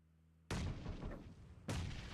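Two loud, heavy blasts of gunfire and grenade explosions in PUBG Mobile, each bursting in suddenly and sustaining a rumbling roar, the second arriving about a second after the first.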